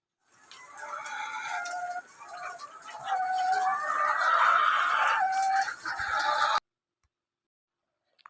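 A flock of laying hens on a layer farm clucks and chatters continuously, with overlapping calls at close range, then cuts off into silence.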